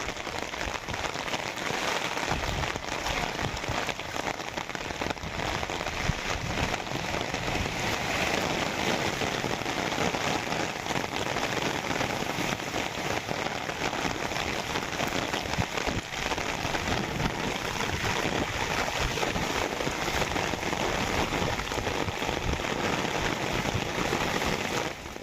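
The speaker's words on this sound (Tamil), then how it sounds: "தாம்பரம் சுற்றுவட்டார பகுதிகளில் அதிகாலை முதல் இடியுடன் கூடிய கனமழை பெய்து வருகிறது." Heavy rain pours steadily over Tambaram in the early morning, a dense, continuous roar of drops hitting surfaces from start to finish, loud and close, with no voices and no clear thunder.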